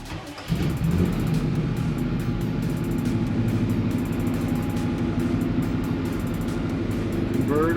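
A 1964 Acadian Beaumont convertible starts and idles, being moved out of a shop, with a brief churn followed by a steady, loud, rumbling engine close by and no talking.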